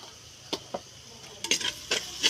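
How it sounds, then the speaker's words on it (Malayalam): Spices are stirred in a pan for chicken curry: a few sharp separate scrapes and clacks of a spoon against the pan over a faint sizzle, close and alone with no talk. "നന്നായി ഇളക്കി കൊടുക്കുക"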